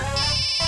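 A phone ringtone plays a bright electronic melody, loud and close, filling the short moment on its own.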